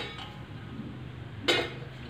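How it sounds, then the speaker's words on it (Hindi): A metal pot holding water is set down on a gas stove in a home kitchen, making a single short clank against a quiet background. "अब इसको मैं बर्तन को गैस पर रखती हूँ"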